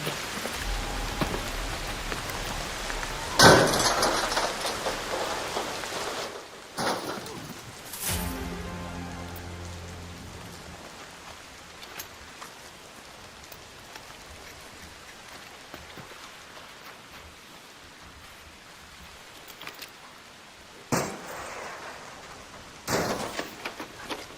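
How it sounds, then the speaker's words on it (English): Steady rain falls as a soft, even hiss throughout, with a few sharp thumps and knocks scattered near the start and end. "It's raining."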